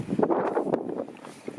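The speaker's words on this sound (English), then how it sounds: "It's been so windy up there." Wind buffeting a microphone on a windy trail at the Grand Canyon, a steady loud rumbling roar with gusty swells and no voices.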